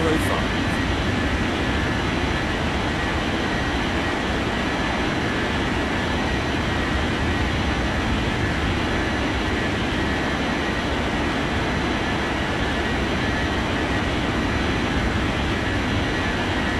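An airliner takes off in an air traffic control video game, producing a steady, loud jet engine roar that holds unchanged throughout.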